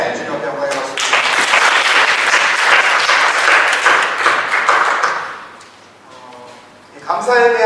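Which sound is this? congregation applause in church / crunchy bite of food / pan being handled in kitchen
congregation applause in church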